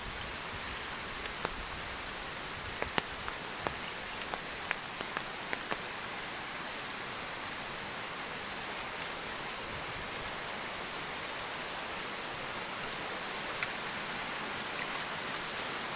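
A river swollen to its banks after a night of heavy rain rushes past a Konkan village road, a loud, steady broadband roar of water with a few faint clicks early on and no voices.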